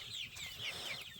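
A black chicken with black feet clucks nearby outdoors, giving a run of soft, close, repeated calls over light background noise.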